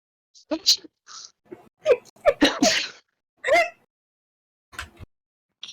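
A person sneezes nearby, a sharp burst amid quick bits of talk and breathing, followed by a few scattered voice sounds.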